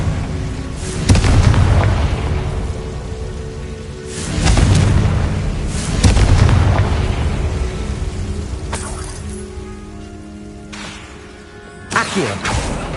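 Spell explosions boom repeatedly in Hogwarts Legacy as a Confringo blasting curse strikes, several heavy bursts with rumbling decay and shattering debris, one ending in a sharp crack, over game ambience.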